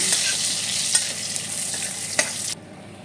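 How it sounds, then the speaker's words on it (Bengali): A steady hiss of sizzling oil as whole spices, including a dried red chili, are stirred in oil left from frying prawns, with a couple of light clinks from a utensil, before the sizzle drops off abruptly. "এবার ফোড়নটাকে একটু তেলের মধ্যে নাড়াচাড়া করে নেব"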